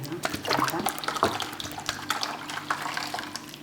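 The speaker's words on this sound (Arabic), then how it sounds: "باش نديرو نحكموا الماء هذاك اللي باقي" Water pours and splashes steadily into a container while mixing Algerian sharbat, a continuous close running-liquid sound with brief clatters.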